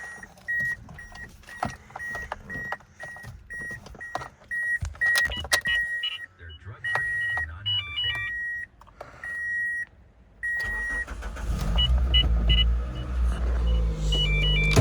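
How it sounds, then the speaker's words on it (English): Toyota Matrix XRS with a 6-speed manual starts up, with a repeating chime that beeps steadily before the engine cranks and settles into a loud, close idle rumble. "So I'm gonna start the car real quick."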